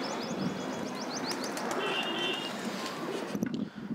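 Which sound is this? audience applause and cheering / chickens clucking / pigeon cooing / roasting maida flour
pigeon cooing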